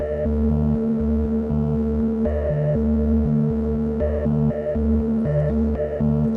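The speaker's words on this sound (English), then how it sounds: "Maybe add some chorus." A modular synthesizer lead with chorus and gritty pink-noise FM plays a stepping melody over a steady low sequence, loud, continuous and close, with no talking.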